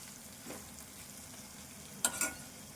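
Onions and chillies frying in oil for an egg dish, a faint, low sizzle with a soft stir early on and a couple of sharp utensil clatters near the end, no talking.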